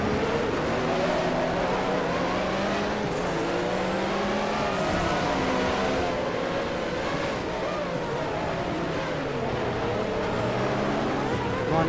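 A racing car engine in the video game GTR2 roars steadily throughout, its pitch rising and falling as it revs and shifts, loud and continuous with faint voices underneath.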